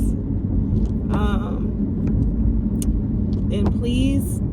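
A car drives along the road, with a steady close low rumble of engine and tyres filling the cabin while a voice speaks briefly over it.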